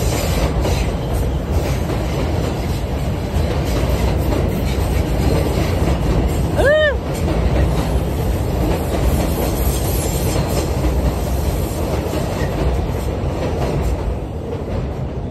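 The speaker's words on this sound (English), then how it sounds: "Look, I see the train coming," A New York City subway train rolls past nearby, a loud continuous rumble and rattle of wheels on track with a brief squeal about midway, filling the whole stretch with no talk.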